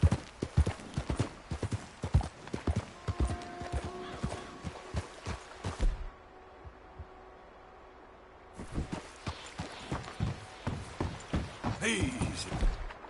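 Horse hooves clip-clop in a steady galloping rhythm in Red Dead Redemption 2, pausing briefly mid-ride before resuming, with a short snorting moment near the end.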